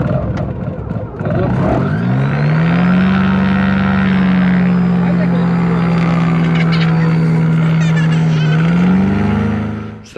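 A propeller aircraft engine at a glider airfield catches and winds up, settling into a loud, steady, close-up drone that rises in pitch again near the end.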